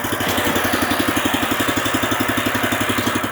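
A BCS walk-behind tractor engine runs close by while raised beds are prepared, a loud, steady, rapid chugging throb with an even pulse that does not let up.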